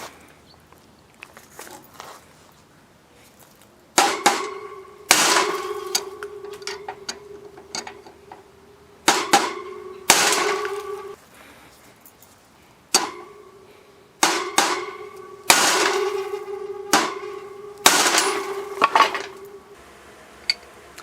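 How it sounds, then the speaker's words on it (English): Sharp metallic strikes ring out in bursts, a horseshoe hammer clanging on channel-lock pliers against an anvil on a vise, bright ringing tones, several quick blows per burst with short pauses between. "All you need is a hammer and a anvil on your vise"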